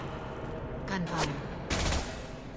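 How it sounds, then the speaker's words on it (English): Gunfire in the Mass Effect 2 video game, two short muffled bursts of shots heard at a distance, quiet against a low ambient hum. "Gunfire."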